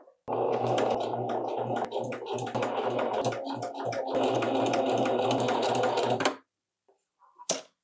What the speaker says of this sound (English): Okay, let's sew this up.